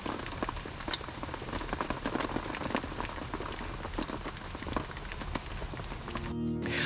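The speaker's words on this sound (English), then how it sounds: "It's supposed to stop soon, raining" Steady rain falls and patters on a surface, a constant fairly quiet hiss with scattered drop taps throughout.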